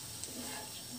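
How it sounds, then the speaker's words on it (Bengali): Radish fries in a pan while being stirred, a soft, steady sizzle that runs through one brief moment. "এভাবে মাঝে মাঝে নেড়ে দিয়ে কিছুক্ষণ একটু ভেজে নেব।"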